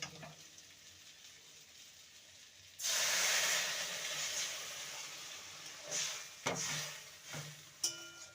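Warm water poured into a pan of spiced potato and pointed gourd being fried gives a sudden loud, steady hissing sizzle that starts partway through, rising out of quiet and then tapering with a few scraping stirs.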